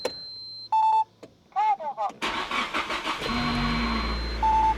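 A Nissan Silvia starts after its fuel line is reconnected: a few electronic beeps and a brief cranking sound, then the engine catches and settles into a steady idle, with another beep near the end.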